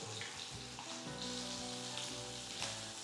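Red shallots, garlic and asafoetida sauté in hot oil, a steady crackling sizzle with light stirring scrapes throughout, close by and continuous, with no voices.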